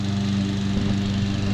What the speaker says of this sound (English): I have Steve push mowing in there because it's just such a small area.